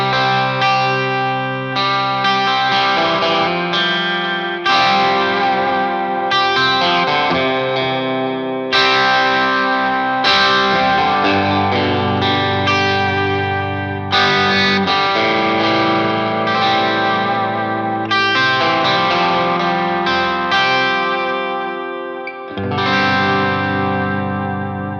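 Ibanez AZ Prestige electric guitar on its bridge and middle pickups, playing sustained chords and notes through chorus and echo effects, loud and continuous with a slightly overdriven edge and no talking.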